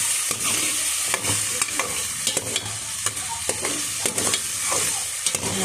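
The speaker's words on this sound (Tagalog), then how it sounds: "So, konting gisa lang po ito mga kaguro." Chopped onion and tomato sauté in a hot oiled pan as the base for pork rib sinigang, a continuous sizzle broken by regular scraping stirs of a utensil against the pan, close and without talk.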